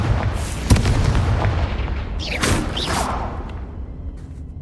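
A Confringo fire spell explodes in the wizarding game Hogwarts Legacy, a booming blast followed by whooshing, crackling bursts that roll away and fade, with no talking.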